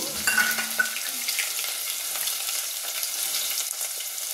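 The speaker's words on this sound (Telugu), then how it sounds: "ఇప్పుడు ఉల్లిపాయ ముక్కలు వేద్దాము." Oil sizzles and crackles steadily as chopped onions fry for mango tomato dal, with a clink of a utensil early on; the hiss stays even throughout.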